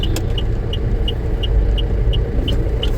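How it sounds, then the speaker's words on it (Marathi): Steady road rumble of traffic on the Vadodara expressway, NH48, heard from inside a moving vehicle, with a faint regular ticking repeating over the low continuous drone. "गाड्या येतात आहे."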